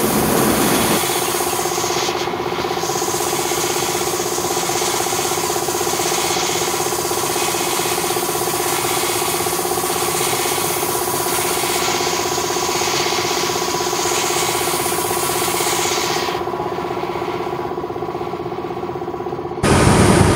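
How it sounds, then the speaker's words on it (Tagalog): An air compressor runs in a car repair shop, a loud, continuous mechanical drone with a steady hum that holds for about twenty seconds before briefly cutting. "sobrang ingay ng ano natin sa paligid. Gawa kasi ng compressor."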